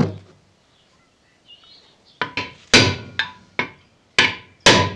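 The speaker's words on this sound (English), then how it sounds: "what I'm doing here is bashing up that housing quite a bit" Sharp metallic hammer blows drive a gearbox bearing housing into place on a Series 1 Land Rover, seven ringing strikes in an uneven rhythm after a quiet moment, close and loud.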